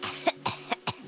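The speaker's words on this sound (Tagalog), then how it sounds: "May ubo siya." Four harsh, close coughs in quick succession, evenly spaced, from a character in a late-night Boracay scene in the game Roblox, heard alone without other voices.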